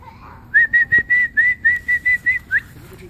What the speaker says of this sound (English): when I whistle, good things happen